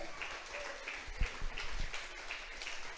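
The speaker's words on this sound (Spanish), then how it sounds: "Denle fuerte el aplauso a Dios por eso" A church congregation claps together in praise during a sermon, a faint, distant wash of applause with a few louder thumps near the middle.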